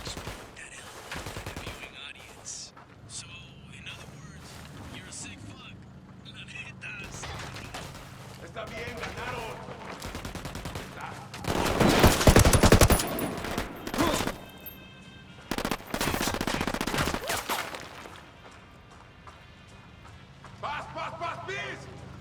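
Rapid bursts of gunfire and sharp sniper shots in the Tom Clancy's Ghost Recon Wildlands video game, loud volleys clustering into dense fusillades over a steady background, with voices calling out between shots.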